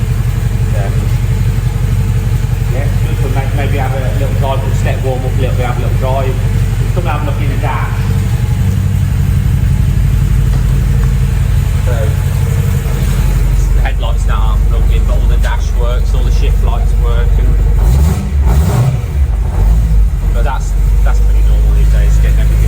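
Car with a titanium track-day exhaust idling and pulling away at a steady, loud drone with occasional revs, close by, under continuous talking.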